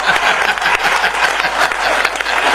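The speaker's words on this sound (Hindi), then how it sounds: "ताली ऊपर हाथ उठा के ताली बजाई जाती है।" Dense, steady clapping from an audience at a Hindi poetry recital held in a pandal, a short continuous burst with a bit of voice underneath.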